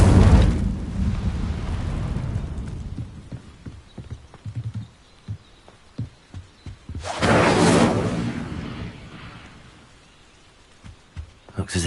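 The Incendio fire spell cast in Hogwarts Legacy: a loud, rushing burst of flame at the start, then quieter scattered crackles and thuds, and a second strong whooshing blast partway through. No one speaks.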